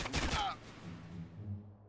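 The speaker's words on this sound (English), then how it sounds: "Hey, they shoot hard." A rapid burst of gunfire from the video game GTA San Andreas rattles at the start and then trails into a low fading rumble, with no voices over it.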